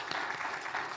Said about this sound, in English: Can I have a huge round of applause for our panellists, Dr. Davina and also Kiara.